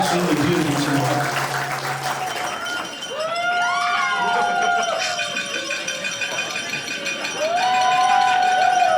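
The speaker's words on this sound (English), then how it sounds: "Give her a round of applause." Wedding reception guests applauding the bride at Panorama House, clapping mixed with crowd chatter, clinking glassware and rising shouts and whoops.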